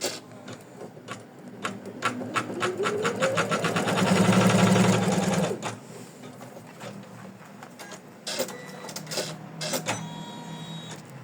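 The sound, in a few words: machine stitching an in-the-hoop heart ornament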